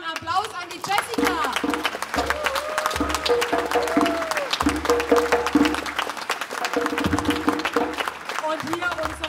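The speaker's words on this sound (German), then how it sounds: "einen Applaus an die Jessica." An audience at a German political campaign rally claps steadily for several seconds. The applause is moderately loud and mixed with crowd noise.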